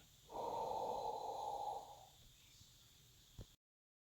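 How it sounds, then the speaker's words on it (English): One long audible breath during a yoga cat and cow pose, a soft airy rush lasting about two seconds and then fading, close and alone, ending with a faint thump. "Breathing in and breathing out."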